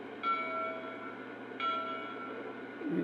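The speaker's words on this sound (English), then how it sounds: "So let's find out what the bell is now." A bright metallic bell from a Lionel GP7 model train locomotive rings twice, about a second and a half apart, each strike ringing out steadily over a low mechanical hum.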